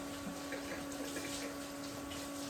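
Tap water runs steadily while a glass jar is washed in a sink. The noise is a quiet, continuous hiss and splash with a constant hum underneath, and no voices are heard.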